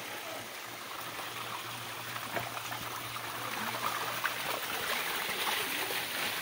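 Steady rushing water flows continuously, a bubbling spring stream heard up close with a faint low hum underneath.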